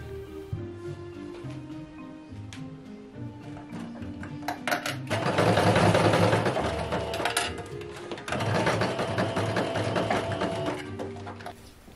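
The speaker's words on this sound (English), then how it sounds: "I aligned the visor to the hat, and I sew it as well." A sewing machine stitches a visor onto a cosplay officer's hat, its steady mechanical run broken into bursts with short pauses and louder, faster stretches, close and alone without talk.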